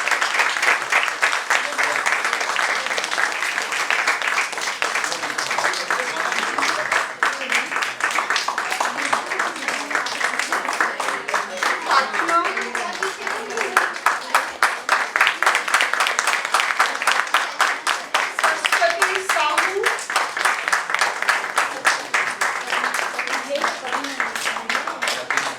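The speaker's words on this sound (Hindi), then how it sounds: "Keep clapping." Audience applause at a book launch and world record celebration as a brand ambassador is introduced, a long run of steady clapping at moderate loudness, with voices and other sound running underneath throughout.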